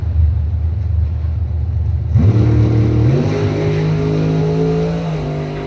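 A Chevy Nova drag race car makes its run at a Chevrolet drag racing event, its engine rising into a loud, sustained roar that holds steady, then eases slightly at the end.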